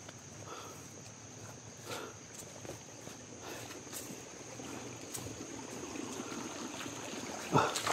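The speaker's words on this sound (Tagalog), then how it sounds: "Tubig sa may sapa" Water flows steadily in a stream as a faint, continuous, hissy trickle with scattered soft outdoor clicks and rustles, ending in a brief louder knock.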